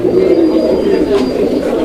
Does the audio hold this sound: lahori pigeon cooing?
yes